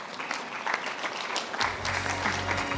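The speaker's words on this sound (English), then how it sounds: "So quick round of applause for Erin." An audience claps steadily through a round of welcome as a guest is invited onstage at a business conference, a low hum entering toward the end.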